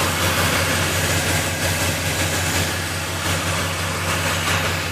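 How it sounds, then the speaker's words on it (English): Air conditioning compressor running on a 1972 Corvette Stingray, a steady engine-bay hum and drone without breaks, fairly loud and close, no talking. "Compressor just kicked on."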